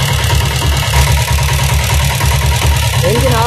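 A diesel Bullet motorcycle engine idles with a loud, steady, close-up chugging thump; a voice talks over it. The shut-off with the cut-off lever is not evident.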